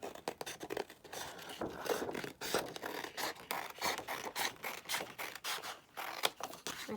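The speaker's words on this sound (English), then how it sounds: "I'm just going to cut out, you know, what can then be a pocket" Scissors snip through paper or card to cut out a pocket shape for an elves craft, giving quick, close, irregular crisp cuts and rustles at low volume with no talk.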